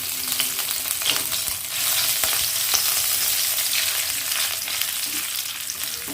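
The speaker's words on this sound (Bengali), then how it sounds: "এগুলো খুব ভালো করে ভেজে নেব।" Whole cumin seeds and crushed ginger fry in hot oil as a tempering for moong dal, giving a steady, loud, close sizzle and crackle that carries on without a pause and with no voices.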